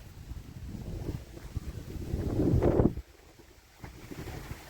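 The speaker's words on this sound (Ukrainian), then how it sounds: "Вітер зривається" Wind buffets the microphone in rough, low gusts that build to a louder surge, then drop away to a quieter rumble before picking up again.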